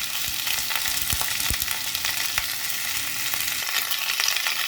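Mixed vegetables sizzle steadily in a frying pan for a murighonto, with a few sharp knocks and clatters as they are tossed in and settle, close and continuous with no talking.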